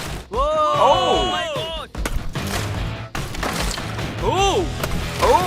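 Someone hits a block of ice holding a briefcase with hard whacks and cracks, a few separate blows, while voices and excited shouts ring out loudly around them.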